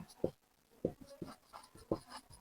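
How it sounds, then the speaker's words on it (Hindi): Writing on a board during a maths lesson, with soft scratchy strokes repeating in short, uneven bursts, close and quiet, under a teacher's speech. "तो यहाँ पे हम लिखेंगे"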